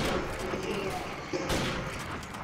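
Gunfire in the video game Modern Warfare Remastered on the Shipment map in a free-for-all match: a dense, loud burst of shots and impacts that continues nearly without pause, with a sharp report in the middle and a player's voice over it.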